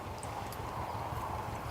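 Horses at a county harvest fair, among them a paint-bred thoroughbred quarter horse, make soft, distant hoof clip-clops amid faint outdoor background noise, with no one talking.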